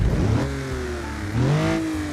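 A 3.7 litre straight-six engine in the Stirling S6 from the BeamNG driving game revs up twice. The steady mid-pitched drone climbs, eases off, then surges again, close and loud.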